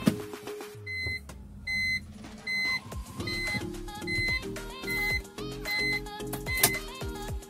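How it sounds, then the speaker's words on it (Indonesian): A repeating electronic warning chime, two-tone beeps at a steady interval, over a low background hum inside a BMW E46, sounding because the door is open with the key still in the ignition. "Waktu kita buka pintu dan kunci nggak kita cabut, itu alarm dia."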